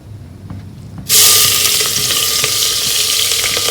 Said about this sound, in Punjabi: ਹੁਣ ਇਹਦੇ ਚ ਆਪਾਂ ਪਿਆਜ਼ ਪਾ ਦਾਂਗੇ ਜੀ